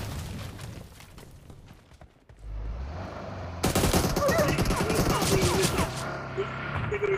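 Sustained automatic gunfire in PUBG Mobile Lite, a dense rapid stream of loud shots with scattered impacts, over faint talk.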